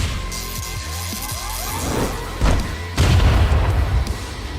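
Heavy gunfire from a video game, with deep booming shots and crashing blasts layered over a rumbling, busy background. The blasts hit hardest near the middle and end of the clip.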